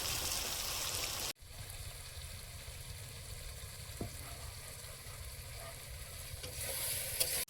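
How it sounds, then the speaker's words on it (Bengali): A pan of spiced fish curry broth bubbles and sizzles steadily at close range, with a brief cut near the start and a faint clink later. "মশলাটা কষিয়ে নিয়েছি, ঝোলটা ফুটছে"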